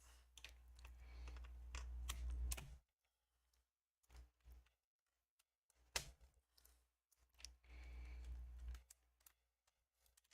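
A computer keyboard being typed on produces several bursts of close clattering keystrokes, broken by short silent pauses and a few isolated clicks.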